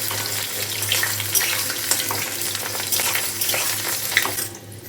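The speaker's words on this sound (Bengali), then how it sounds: "এটাকে ধিমে আছে অল্প করে ভেজে নিতে হবে।" Steady sizzling and crackling of soya chunks frying in hot oil in a kadai over low heat, close and continuous, with occasional scraping stirs and no voices.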